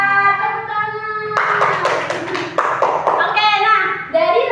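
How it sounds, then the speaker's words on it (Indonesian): Schoolchildren clap in a rhythmic group pattern in an elementary classroom, bursts of claps set between singing or chanting voices. "Tepuk tangan."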